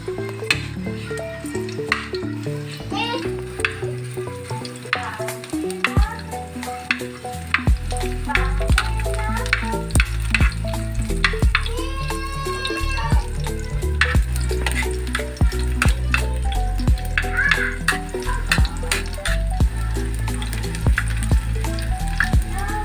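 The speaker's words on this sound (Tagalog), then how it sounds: "Sunod na natin itong bawang para dahan-dahan siyang makulay brown." Garlic sautés in a pan for ginisang malibanos, a steady, dense sizzle and crackle running throughout with occasional clicks and stirring touches, mixed with a tonal background layer.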